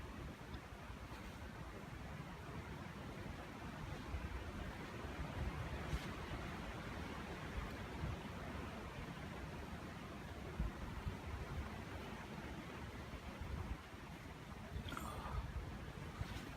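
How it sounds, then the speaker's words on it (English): Strong wind gusts steadily around a hammock camp outdoors, a broad continuous roar that swells and eases over about sixteen seconds with no voices. "It's a windy day."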